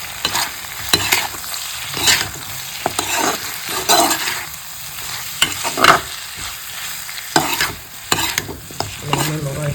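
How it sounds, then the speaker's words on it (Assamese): Chicken frying with garam masala in a pan, stirred with a utensil: steady close sizzling under repeated scraping and clinking strokes, with no talking. "গৰম মছলা অলপমান দি দিছোঁ এতিয়া গোটেইখিনি আৰু লৰাই যাওঁ"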